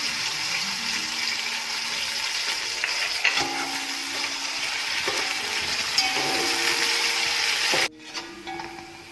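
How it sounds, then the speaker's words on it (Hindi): Chopped onions fry in about two cups of hot oil, sizzling loudly and steadily with occasional light metallic clinks of stirring before the hiss drops away abruptly near the end. "सबसे पहले मैं 2 कप ऑयल डालूंगी। प्याज डालकर गोल्डन ब्राउन करूंगी।"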